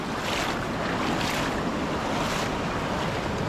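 Water rushes with force at a dam after heavy rain, a dense, loud, continuous roar that stays steady throughout, with wind buffeting the microphone.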